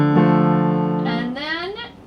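Piano playing a passage from a jazz piece, held chords with the sustain pedal down so the notes ring and blend, then a new chord sounding over the decaying tones, close and fairly loud, with no talking.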